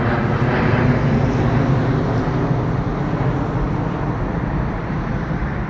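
Large planes fly over at Heathrow Airport, a loud, steady, broad roar of jet engines that slowly fades, heard alone without talk.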